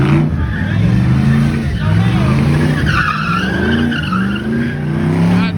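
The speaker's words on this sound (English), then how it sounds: "Goddamn CAMARO, coupe going crazy." Camaro coupe skidding with squealing tires at a car meet, a steady loud engine roar under crowd noise and nearby voices talking throughout.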